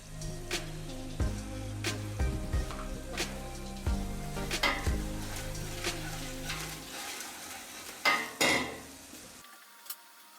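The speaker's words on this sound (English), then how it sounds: "Two cups of wheat flour are added and roasted for 5 minutes." Wheat flour roasting in a pan for a green lentil noodle soup, with a soft dry sizzle and repeated scrapes and taps of a spoon stirring against the pan, close up with no talking.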